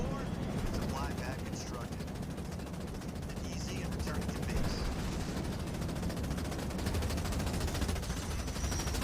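A Victory turret in the strategy game Halo Wars 2 pounds an enemy mini base with steady, dense rattling fire and booming impacts that run unbroken for the whole stretch at a consistent, moderately loud level.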